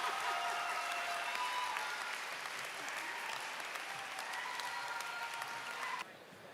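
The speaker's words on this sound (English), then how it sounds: "Let's give them one big round of applause," A round of applause from the audience at a career academy recognition ceremony, dense steady clapping from a large crowd that carries on evenly, then drops abruptly to a quieter level near the end.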